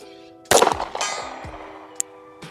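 A single sharp shot from a Fusion Firearms XP PRO pistol fired at a 75-yard target outdoors, loud and close, with a ringing decay, followed by a faint distant metallic clang.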